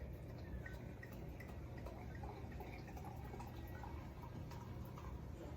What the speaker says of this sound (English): Let's go ahead and pour that bubbly.